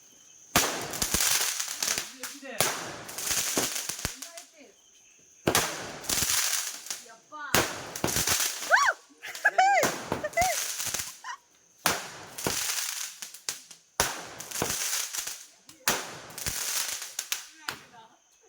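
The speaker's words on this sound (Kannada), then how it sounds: "ಅದಾದ್ಮೇಲೆ ಎಲ್ಲರೂ ಸೇರ್ಕೊಂಡು ಪಟಾಕಿ ಹೊಡೆದ್ರು" Firecrackers set off by a family during a Gauri festival celebration, sharp loud bangs and crackling bursts repeating in clusters with short gaps, voices audible in between.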